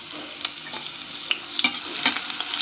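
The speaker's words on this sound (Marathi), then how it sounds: "मिरची तळत आल्यानंतर मग बटाटा सोडून द्यायचा आहे" Chopped green chilies and potato frying in a pan, a steady close sizzle with a few sharp stirring scrapes and clicks scattered through, no voices.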